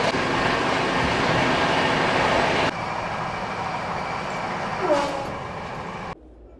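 Howrah Rajdhani Express runs on, its carriages giving a steady interior rumble and hum that drops in level partway through, then cuts off near the end.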